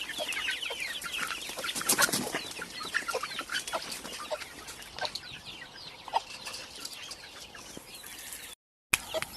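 Soft clucking and peeping from chickens and chicks wandering nearby, with scattered chirps over a steady outdoor background.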